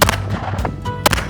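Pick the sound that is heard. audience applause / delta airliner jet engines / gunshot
gunshot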